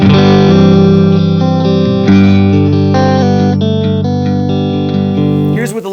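A guitar played through the clean channel of a Friedman IR-D amp with no delay or reverb rings out in loud, close sustained chords that change a few times before cutting off abruptly near the end.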